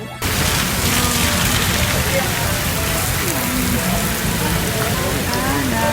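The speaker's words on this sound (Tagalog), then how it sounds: "sobrang lakas ng hangin at lakas ng ulan" Heavy rain pours steadily and loudly in strong wind, a dense continuous roar of drops hitting surfaces that starts abruptly and never lets up.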